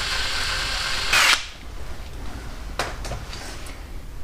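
A power drill bores tail-light holes into a Viking trunk, a short loud whirring burst after a steady motor hum, followed by a few sharp clicks.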